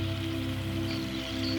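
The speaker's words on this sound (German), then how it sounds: "diese heilsamen Regentropfen" Steady rain falls on a surface in a calm meditation setting, a continuous even patter of raindrops with a low droning hum beneath, heard alone with no talking.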